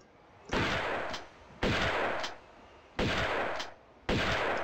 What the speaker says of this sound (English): Did I really use all my shotgun ammo on that?